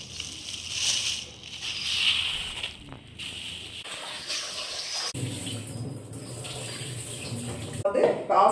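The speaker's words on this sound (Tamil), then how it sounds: "இந்த கறியை வந்து நல்லா ஒரு 4-5 தடவை நல்லா வாஷ் பண்ணிக்கலாம்" Mutton pieces, half a kilo, being rinsed under running tap water in a home kitchen, a steady splashing wash that shifts in tone as the meat is handled, fairly close and moderately loud throughout.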